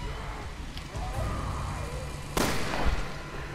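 Gunshots from the Resident Evil Revelations 2 game ring out over a low rumbling ambience, with a sharp, loud blast near the end and a fainter follow-up shot.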